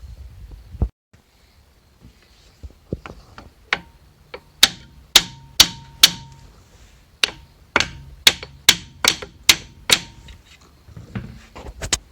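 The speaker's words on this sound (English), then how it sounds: "probably going to need a hammer and just tap on this a little bit" A hammer taps on a brake caliper of a 1979-1993 Ford Mustang again and again, sharp ringing knocks in an uneven rhythm that speeds up midway, close and fairly loud.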